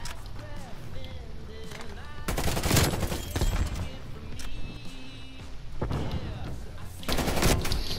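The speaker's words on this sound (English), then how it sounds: "that fucking M16 is just slaughtering" Bursts of M16 rifle fire in a first-person shooter video game, rapid volleys coming in clusters over steady game noise, loudest near the middle and end.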